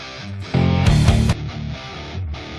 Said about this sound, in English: So one of the amp sims sounds like this.